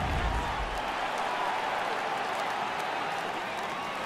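Stadium crowd roaring and cheering in MLB The Show 18 at a Yankees versus Red Sox game, a dense, steady wash of many voices, loud and sustained throughout.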